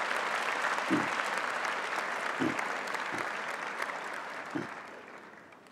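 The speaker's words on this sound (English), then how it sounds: "So please give them a round of applause." Sustained applause from the audience at a University of Pretoria honorary doctorate ceremony, steady and moderately distant with a few louder thumps, slowly fading toward the end.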